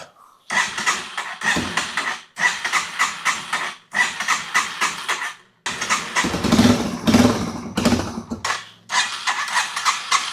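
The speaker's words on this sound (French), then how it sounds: "Pourquoi elle a le ralenti bas comme ça?" A 40-year-old Solex moped engine idling low and unevenly with its headlights on, bursts of close puttering that drop out and restart several times across the clip.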